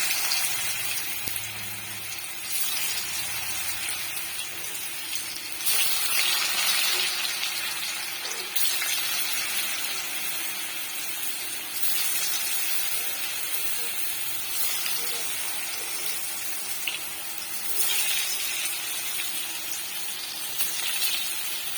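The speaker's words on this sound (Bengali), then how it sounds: "সব কচুগুলো আমি দিয়ে দিয়েছি। এখন এটা ভাজা হবে।" Taro (kochu) pieces fry in hot oil in a wok for a spicy masala dish, producing a long, even, moderately faint sizzle and hiss that swells slightly at times.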